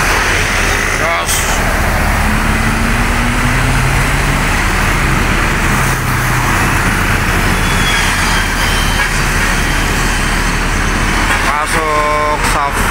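A Transjakarta city bus with a Mercedes, Scania or Volvo engine pulls away in Jakarta morning rush-hour traffic, its engine rumble steady under broad roadway noise, with a horn-like tonal burst near the end.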